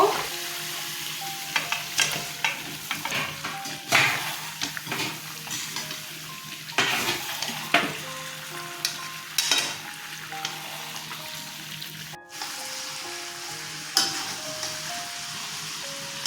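Potatoes fry in a cooked-down spice masala for aloo dum, giving a moderate sizzle. Repeated spatula scrapes and clinks break in every second or two, with no voices.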